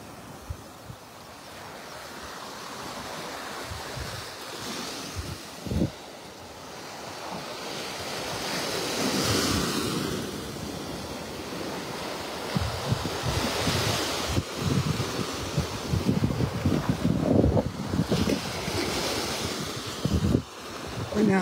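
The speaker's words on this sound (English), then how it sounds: "Now that wind's coming out of the south, southeast." Steady wind gusting from the south-southeast across a Florida Gulf beach in North Naples, blended with low surf washing ashore, a continuous broad rush that swells and eases throughout with no talking.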